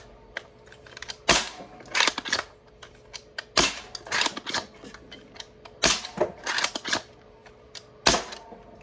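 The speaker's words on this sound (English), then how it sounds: "I could even leave it up there and it will still fire" Cynthia bolt-action toy blaster with aluminum bars in the frame, fired repeatedly: sharp mechanical snaps and clacks in irregular bursts, close and fairly loud, with no talking.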